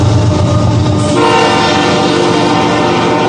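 A loud train rumbles past close by near Pollepel Island, its horn blaring steadily over the roar of the cars.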